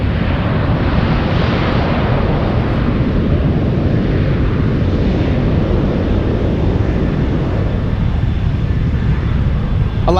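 A passing jet airliner on an Alaska Airlines flight to Portland, seen from San Francisco airport, rumbles loud and steady for the whole stretch as a broad low roar with no clear talk.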